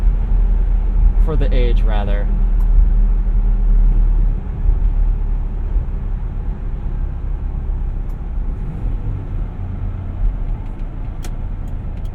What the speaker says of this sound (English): Fair amount of wind noise, you know, as you would expect.